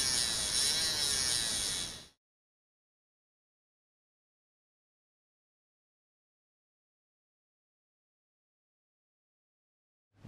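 Modded flywheel motors spin on 3 volts with a steady, close electric buzz and whir. The sound stops abruptly after about two seconds, and near-silence follows.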